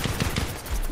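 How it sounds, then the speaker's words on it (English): DMR rifle shots in a video game fire as a quick, rapid string of sharp reports, several within a second, with no talking. "this DMR does nice damage though, but it's not as accurate"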